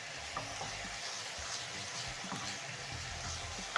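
Onions seasoned with salt and black pepper sizzle steadily in a frying pan while being stirred, a continuous close frying hiss with faint scraping and a small knock near the end, no talking.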